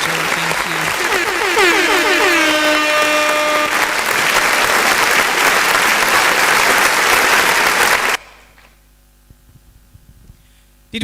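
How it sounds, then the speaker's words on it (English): A conference audience claps steadily for several seconds over a loud electrical hum and a few whistling tones, then the applause cuts off abruptly, leaving a quiet hum. "give him a better round of applause"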